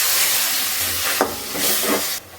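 A loud steamy hiss fills the clip, with a couple of brief bubbling bursts as water hits a hot pan of spices, then cuts off abruptly.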